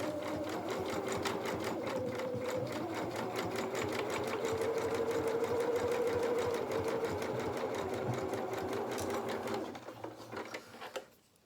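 A sewing machine running a zigzag stitch along a fabric edge for a doll's dressing gown, a steady close mechanical whirring chatter that holds for about ten seconds, then slows and stops.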